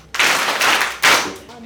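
A group of young people clapping in unison at a church confirmation session, two loud bursts of rapid claps close by, the second starting sharply and fading out.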